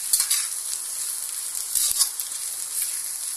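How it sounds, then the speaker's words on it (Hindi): Carrots and capsicum stir-fry in a hot pan for Hakka noodles, giving a continuous bright sizzle with soft scraping stirs and a few louder clatters as the vegetables are tossed. "इसको भी 1 मिनट हमने फ्राई कर लिया है।"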